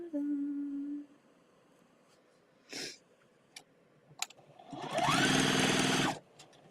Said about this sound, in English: I'm going to start sewing them on the top and bottom.